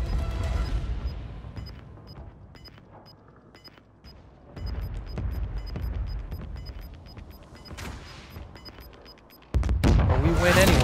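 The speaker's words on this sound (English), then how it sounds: "Friendly mortar strike on the way." Mortar strike explosions in the Modern Warfare III multiplayer game, deep booms and rumbling impacts scattered among ticking game sounds, building to a loud blast at the end, with voices over the action.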